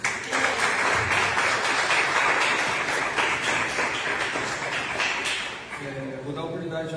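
Sustained applause from a church congregation at a youth group service, dense and steady for several seconds, fading near the end as a voice begins speaking.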